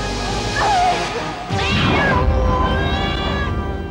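A cat meows in a dramatic Hindi superhero TV scene, a drawn-out cry over a steady background hum, followed by a sharp crash-like burst and further strained vocal tones.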